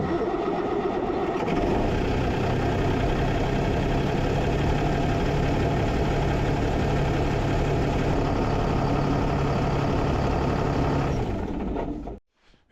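A dump truck engine runs after a shaft seal leak repair: a steady, loud, low mechanical drone for about twelve seconds, then it cuts off abruptly near the end.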